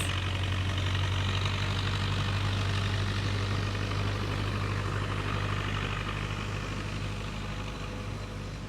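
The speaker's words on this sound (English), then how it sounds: "some motorized vehicles going by at this time," Motorized vehicles go by near a shoreline, producing a steady low engine drone and rumble that slowly fades slightly, with no talking.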